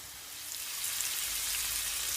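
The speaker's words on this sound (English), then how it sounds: "I'm just gonna allow it to saute, guys, for at least 3 minutes" Chilli prawn sauce sautéing in a pan gives a steady, close hiss and crackle of frying that grows slightly louder and holds even, with no voices over it.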